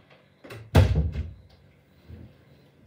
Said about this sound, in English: Just quickly gonna close the door.